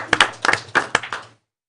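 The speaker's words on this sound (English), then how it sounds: "A round of applause. Good job." A small group at a school board of education meeting claps briefly, a handful of sharp, uneven claps over about a second before they stop abruptly into silence.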